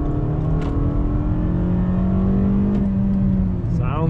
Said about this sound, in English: Give y'all a little acceleration test.